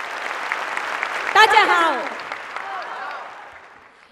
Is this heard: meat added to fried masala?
no